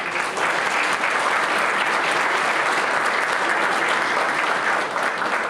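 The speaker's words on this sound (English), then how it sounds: "Give a round of applause to Homewood Suites." Dense, loud applause from an audience at an adult education program celebration, continuous clapping holding steady throughout without pause.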